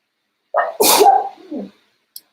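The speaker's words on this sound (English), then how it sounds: "Oh, I gotta sneeze." A single loud sneeze bursts out after a short inhale, followed by a softer trailing sound and a tiny click.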